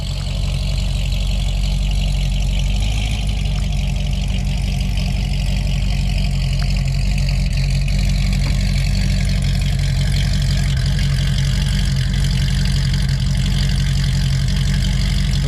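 A C6 Grand Sport Corvette fitted with Speed Engineering 2-inch longtube headers idles outdoors, producing a deep, loud, steady rumble that holds evenly for the whole stretch with no revving.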